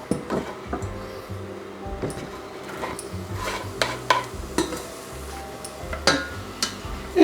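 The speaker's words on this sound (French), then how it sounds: "On va faire fondre nos échalotes tranquillement jusqu'à ce qu'elles deviennent translucides." Shallots cooking in melted butter in a frying pan give a soft, steady sizzle, with a utensil stirring and clinking against the pan several times throughout.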